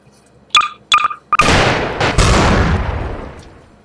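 Gunshots from an NPC in Garry's Mod: two quick sharp cracks followed by one loud booming shot with a long, decaying echo, heard alone.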